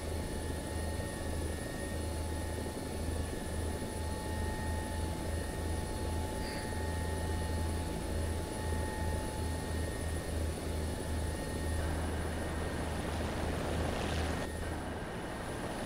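A helicopter engine in a video game drones continuously, a loud steady rotor thrum with a low pulsing beat that holds throughout without talk.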